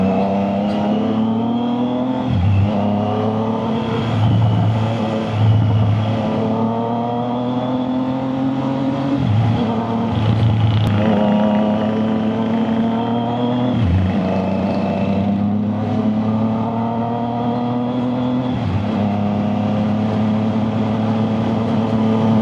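Triumph Trident 660 three-cylinder motorcycle engine revs repeatedly, loud and close, rising and falling in several throttle blips with a steady rumbling idle between them, no talking.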